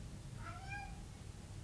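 A cat gives one soft meow with a rising then falling pitch, faint and short, over a low steady background hum.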